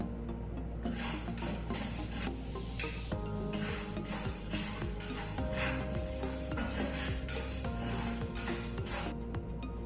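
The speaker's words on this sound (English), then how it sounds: "We have to dry roast these ingredients." Peppercorns and spices dry-roasting in a pan give a dense, continuous rattle and scrape of hard seeds being stirred against metal, close and steady with no talking.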